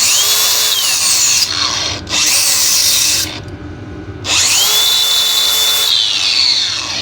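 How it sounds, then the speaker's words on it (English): A power grinder with a flap wheel deburring metal whines at high speed, spins down briefly, pauses, then revs back up into a long, loud grinding run close by. "Let's dust her off a little bit with our grinder, our flap wheel."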